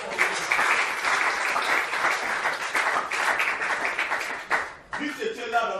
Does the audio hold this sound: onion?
no